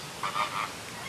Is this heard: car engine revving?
no